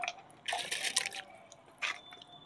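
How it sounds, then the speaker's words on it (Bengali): Soaked rice tipped into a cooking pot while making chicken biryani in a village kitchen, heard as two wet, splashy pours, the first longer and the second shorter, close and fairly soft with no talking. "তো এবার চালটা আমি দিয়ে দেব"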